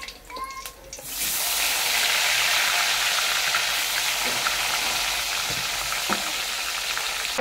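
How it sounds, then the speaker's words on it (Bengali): Silver fish frying in hot oil in a pan, a steady dense sizzle that starts abruptly after a brief quieter moment and carries on loud and close with occasional pops, no talking. "বাকি মাছগুলো ভেজে নেবো এইভাবেই।"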